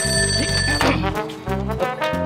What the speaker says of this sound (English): Answer the phone before it wakes up Grandad Tumble.